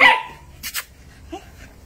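Small dog giving a couple of short barks indoors, a brief yap early and another burst midway, then quieter yips near the end, alone without talk.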